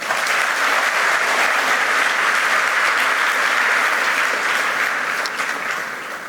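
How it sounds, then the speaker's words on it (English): A large audience at a formal event applauds steadily, a dense, even wash of many hands that holds loud for several seconds before beginning to fade near the end. "Let's give them a good round of applause"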